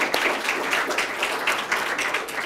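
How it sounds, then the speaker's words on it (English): An audience claps for a panel of speakers at an arts event, a steady wash of applause with faint pulsing swells, moderately loud and without speech. "Can I get one more round of applause for the group?"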